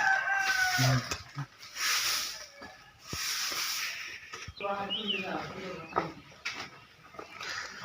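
A rooster crows in the morning, its harmonic call rising partway through, with people talking nearby and a steady background hiss.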